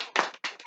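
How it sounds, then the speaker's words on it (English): People clapping on a talk show, a brief burst of a few quick, close claps. "Clap for Ray."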